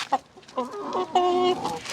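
A rooster clucks in a few short, agitated calls ending in a drawn-out tonal squawk, close by.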